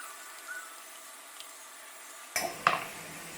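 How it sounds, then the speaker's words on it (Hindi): Freshly blended tomato onion chutney transferred into a bowl, with two quick clinks of a spoon or utensil against the dish near the end after a near-silent stretch. "इसे एक बोल में ट्रांसफ़र कर लेंगे।"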